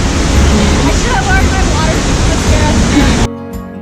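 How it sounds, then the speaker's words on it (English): A waterfall near Seljalandsfoss, Iceland roars in a dense, steady wash with wind buffeting the microphone, then cuts off abruptly near the end. "Yeah, waterfall."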